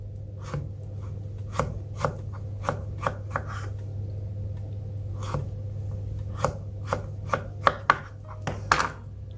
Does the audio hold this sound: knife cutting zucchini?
yes